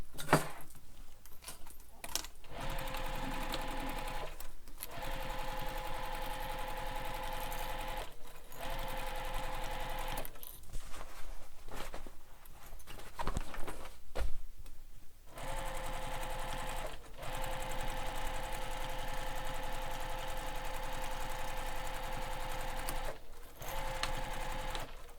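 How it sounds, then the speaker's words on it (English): A sewing machine stitches the long edge of a Passenger Backpack, running in long steady bursts with several short pauses, close and clear, with no talking. "I'm going to sew the long edge here"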